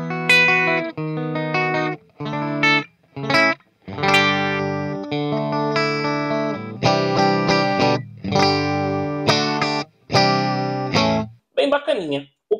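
Electric guitar played through a Cuvave Cube Baby amp with a distorted tone: a series of loud strummed chords and short phrases with brief gaps between them, ending in a few quick bent notes.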